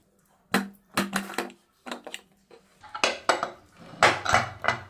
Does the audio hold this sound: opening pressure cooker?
yes